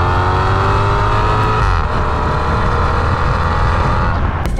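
A Maserati GranTurismo's 4.2-litre V8 engine revs loudly and close, its deep rumble rising and holding steady, then easing slightly near the end.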